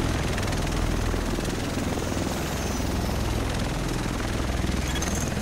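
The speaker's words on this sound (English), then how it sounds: "The rest of us should be in this chopper." Helicopter in the video game Tom Clancy's The Division, its rotor thumping loud, steady and close throughout with a dense engine roar and no speech over it.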